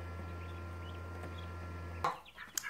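Chickens and geese in a chicken coop at five in the morning, where a steady low mechanical hum breaks off into a near, sharp cluck and a few fainter squawks and rustles, with no talking.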